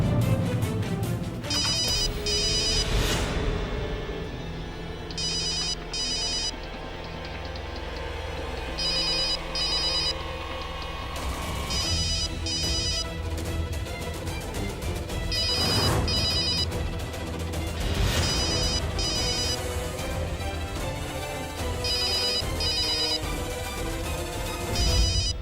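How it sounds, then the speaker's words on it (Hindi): A phone ringtone rings over and over in a house, a loud, repeating electronic melody that plays in steady bursts throughout and is heard alone. "घंटी जा रहा है लेकिन दामाद जी फोन नहीं उठा रहे हैं।"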